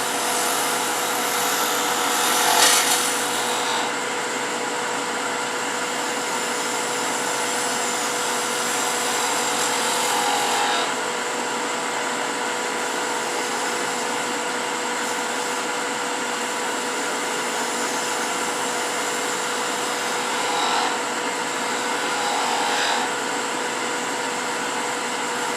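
A wood lathe spins continuously with a steady high whine while a gouge cuts the wheel of a wooden wheelie bug pull toy, with faint scraping bursts where the tool rides the bevel.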